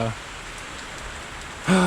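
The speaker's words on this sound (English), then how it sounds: "Started raining here, and I'm working outside today with the quad" Steady rain falling outside, a continuous even hiss heard from a garage, with a voice briefly at the start and again at the end.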